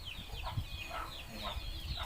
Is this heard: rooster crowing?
yes